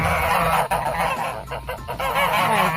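A goose honking loudly and close, a run of repeated harsh nasal calls overlapping one another without pause.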